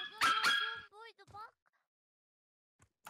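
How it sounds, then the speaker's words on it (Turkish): A dog in a Hogwarts roleplay video game gives a few sharp yelping barks close by, followed by quieter whimpers and then near silence. "Köpek bağırıyor."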